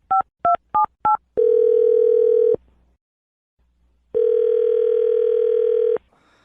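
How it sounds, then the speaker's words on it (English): A telephone number is dialed with four quick touch-tone beeps, followed by two long ringback tones separated by a silent pause, clean and close with no talking. "I'm going to dial her phone number right now, okay?"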